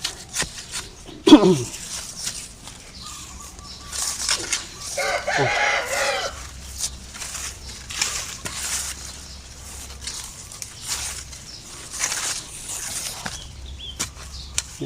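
Hens cluck on and off at close range on a Thai bamboo farm while a rooster crows once partway through, with scattered rustling and a faint low hum behind.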